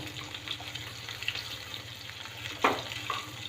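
Soya chunks roasting in a pan on low heat, a soft continuous sizzle with light scraping stirs and one louder clatter near the end, no talk.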